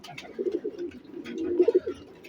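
Pigeon cooing close by in short throaty bursts, a soft rolling coo followed by a louder pulsing run of notes.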